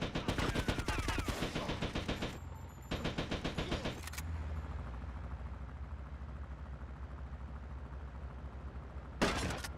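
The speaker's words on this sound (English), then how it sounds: "it literally sounded like they were shooting a minigun" Sustained rapid minigun fire in GTA: Vice City Stories, two long, loud bursts of dense automatic shooting, a pause, then a brief renewed burst at the end.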